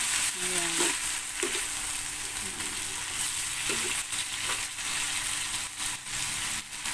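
Chicken frying in a pan with a little added water, a continuous bright sizzle punctuated by intermittent stirring scrapes and clanks, with a voice speaking briefly over it.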